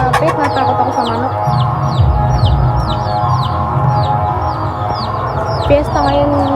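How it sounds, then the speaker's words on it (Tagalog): Chickens cluck in short repeated calls amid a noisy village fiesta in Bangate, Sorsogon, Bicol, with a steady background din and some distant voices. "Natakot ako sa manok."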